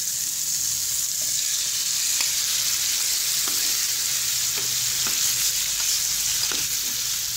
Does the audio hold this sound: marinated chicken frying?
yes